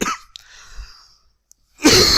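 A man coughs during a spoken history lecture: a short cough at the start, a quiet gap with a faint breath, then another loud cough burst right at the end.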